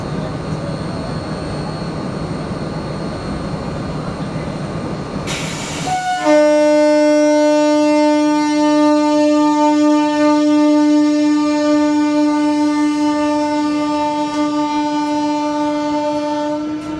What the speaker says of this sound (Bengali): এবার যাবে ট্রেনটা